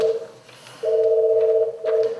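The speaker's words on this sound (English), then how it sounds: "Caller ID tells him it's Rebecca." A telephone rings with an incoming call, giving clear electronic tone bursts in an on-off pattern, one short burst followed by longer ones, close and alone.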